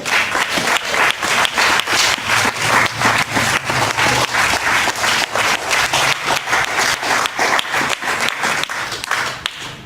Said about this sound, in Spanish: Ahora dale un aplauso a Él.